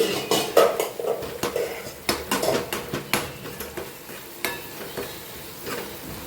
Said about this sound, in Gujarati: થોડીક ડુંગળી ચડી જાય ત્યાં સુધી આપણે એને શેકાવા દઈએ